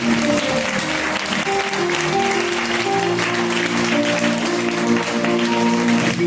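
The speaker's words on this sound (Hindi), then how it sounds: "जोरदार ताली बजाए, एक बार फिर से हाथ उठाना," Loud, sustained applause from a church congregation during a Sunday sermon fills the whole clip, dense and continuous.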